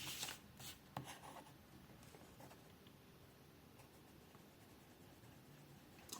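A gold-nibbed fountain pen scratches faintly across paper, a very quiet, soft rubbing with a couple of sharper taps near the start and a near-silent stroke after.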